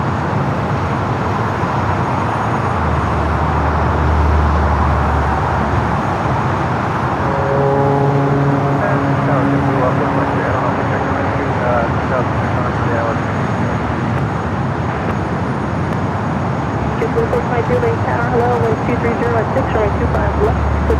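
An airliner taxiing at Los Angeles International Airport toward a turnoff, a loud, steady broadband jet engine roar with tonal whine rising midway, heard from nearby amid general airport noise.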